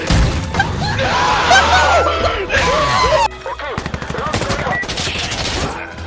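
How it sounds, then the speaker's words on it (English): Frantic gunfire in the video game Lethal Company: dense rapid bursts of shots and crashes, loud and close, mixed with shouting voices and a sudden cut in the middle. "Was that a grenade?"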